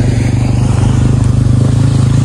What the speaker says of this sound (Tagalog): Talagang pinandar na nila yung motor nila.